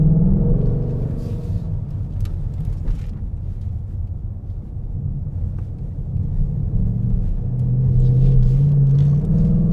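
A Ford Mustang riding on 19-inch wheels drives along a road, producing a steady low engine and road rumble from inside the car, with a droning engine note that swells toward the end.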